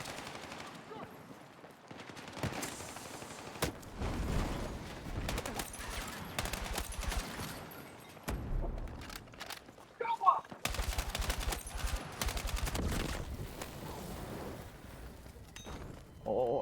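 Rapid bursts of automatic gunfire and heavy explosions from Battlefield 6 multiplayer combat, near and loud, with dense overlapping volleys and booms across the whole stretch.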